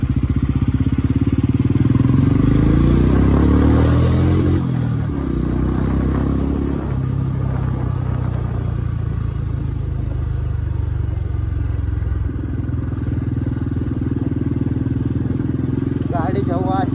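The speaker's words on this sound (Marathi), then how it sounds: "गाडी जेव्हा अशी बुरबुर करते ना भाई सुपर बाईक" A Royal Enfield Bullet motorcycle rumbles loudly and continuously close by on a morning ride, its deep throbbing engine note steady throughout, with a voice talking over it.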